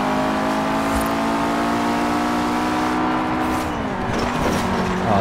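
A car engine in Forza Horizon 4 drones loudly and steadily, holding high revs before the pitch sweeps down near the end as the revs drop.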